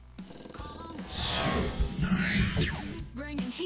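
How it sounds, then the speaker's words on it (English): A telephone rings with an incoming call to a live call-in show, a bright ringing tone running across the clip beneath a loud, dense mix of voices and noise. "Please answer the phone immediately."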